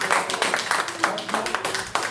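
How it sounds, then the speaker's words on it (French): A small group claps in a lively run of distinct, fairly quick claps, close by and uneven, with faint voices underneath. "On peut l'applaudir aussi, t'applaudir première."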